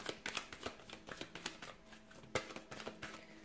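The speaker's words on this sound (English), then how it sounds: "let's go ahead and give the cards a shuffle here" Tarot cards being shuffled up close, a steady run of quick, crisp snapping taps, with no voices.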